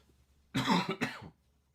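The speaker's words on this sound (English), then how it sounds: "Hopefully I can cough this out." Two quick, rough coughs close together, near and fairly loud, in otherwise quiet surroundings.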